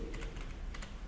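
Computer keyboard typing an SQL command, a quick patter of soft keystrokes in a short burst over a quiet room hum, with no talking.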